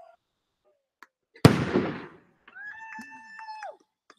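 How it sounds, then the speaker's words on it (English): A single firework bursts with a sharp loud crack and a crackling tail that fades over about half a second, followed by a bright whistling tone at a New Year's gathering. "And already Matt bails out of lighting the semi-dangerous fireworks."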